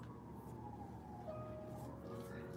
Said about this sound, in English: Y'all hear the ambulance in the background with the sirens?